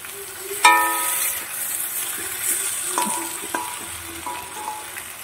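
Fish pieces and tomatoes frying in a pan over low heat, a steady close sizzle with a sharp burst as food is stirred, followed by scattered clinks and scrapes of a utensil against the pan.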